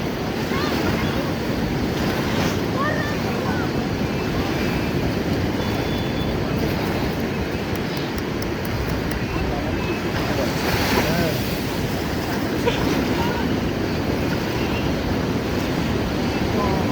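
Ocean waves break steadily at Puri Beach, a loud, continuous surf roar mixed with gusty wind buffeting the microphone for the whole stretch.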